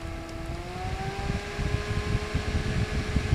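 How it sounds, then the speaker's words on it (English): A Funlab 01 rechargeable USB toothbrush-style fan with a four-blade, high-RPM rotor runs on medium speed, giving a steady close-up hum with a rising whine and low airy rumble that holds on without speech. "This one does have a very noticeable humming noise, probably due to its very high RPM combined with the 4-blade design."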